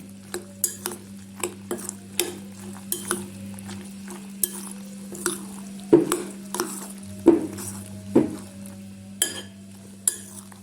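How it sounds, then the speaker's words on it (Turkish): Pasta is stirred into beaten eggs in a pan, heard as a series of close, regular utensil clinks and scrapes against the cookware over a low steady hum. "Şimdi makarnaları yumurtaların üzerine alıyorum. ve güzelce karıştırıyorum."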